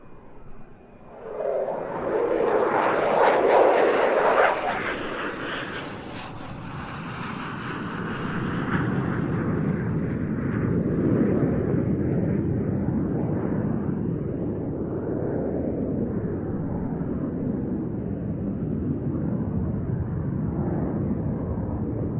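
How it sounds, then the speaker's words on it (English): A display jet flies a low-speed dirty roll with landing gear extended, its broad engine roar swelling early then holding steady and fairly loud at an airshow arrival day. "the aircraft continues to operate in a relatively low-speed flight regime, now with the landing gear extended, and this will be for a dirty roll"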